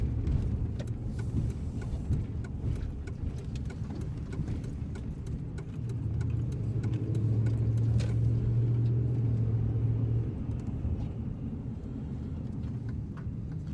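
A car driving along the road with a steady low engine rumble and road noise throughout, swelling a little louder in the middle stretch before settling back, with faint jingling like keys now and then.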